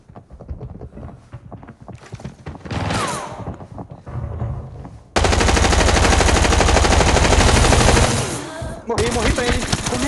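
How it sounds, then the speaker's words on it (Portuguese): Rapid automatic gunfire in the video game Arena Breakout, a sustained loud burst of shots after scattered earlier shots, with brief pauses then firing resuming; no talk over it. "o Xixuni deu tiro pra caralho nele"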